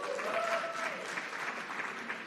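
An audience clapping together at a live event at Norfolk State, a dense burst of applause from a crowd lasting a couple of seconds, with a faint voice briefly audible at the start.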